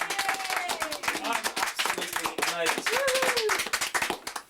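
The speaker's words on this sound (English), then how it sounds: "Let's have a round of applause." Audience clapping rises in sharp, dense bursts during a late-night comedy show with clowns, with a speaking voice and a rising squeal-like sound over the applause throughout.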